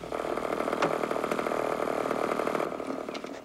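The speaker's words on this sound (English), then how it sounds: "this is the smallest chainsaw you can buy" A very small chainsaw runs steadily with a buzzing, rasping drone, holding an even, fairly loud pitch for several seconds before easing slightly at the end.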